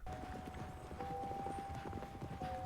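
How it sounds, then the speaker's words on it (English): Horses running in a scene from The Hateful Eight, a steady patter of hoofbeats at a loose gallop rhythm, fairly close and continuous with no speech. "This has been like almost 2 minutes now of just watching these horses run."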